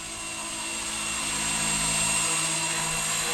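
A Blade 250 CFX RC helicopter fitted with a Microheli three-blade head flies nearby, its rotor and motor giving a steady high whine that swells slightly in loudness, alone with no talk.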